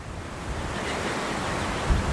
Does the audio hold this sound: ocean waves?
yes